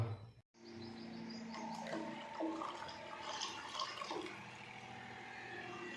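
Water pours steadily into a cooking pot for egg curry after a brief pause, a continuous splashing gush that shifts in tone as it fills.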